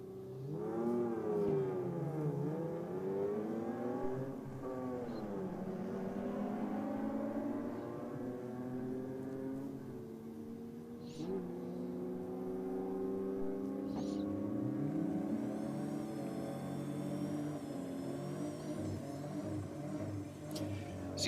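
A Tirana and a Falcon Ute run a drag race, engines revving hard with rising and falling harmonic whines as the cars accelerate through gear changes, loud and sustained throughout.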